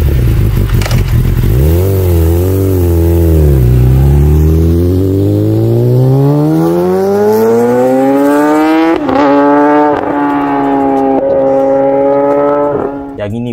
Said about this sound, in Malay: Yang ini bunyi enjin inline 4 screamer.